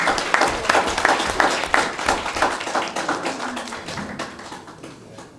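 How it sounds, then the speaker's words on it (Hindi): An audience claps together at an event honouring a blind woman cricketer, the applause loud and dense at first with a few sharp individual claps, then gradually thinning and fading toward the end. "हम सब एक बार तालियों के साथ विशेष अभिनंदन करते हैं"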